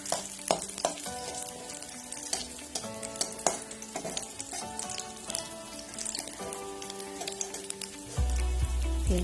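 Onions frying in a pan for Odia-style rava upma, a steady sizzle with frequent scraping clicks of a spoon, turning louder and denser with a hiss near the end.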